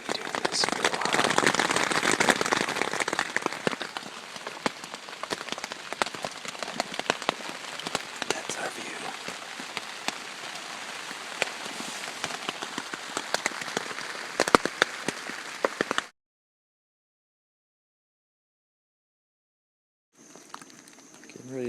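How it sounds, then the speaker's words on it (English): Rain pattering steadily on a surface overhead during a camping trip in Maine, a dense continuous hiss with scattered sharper drops for about sixteen seconds, with a brief voice, then near silence and a faint return of sound. "Started to rain a little bit harder after lunch"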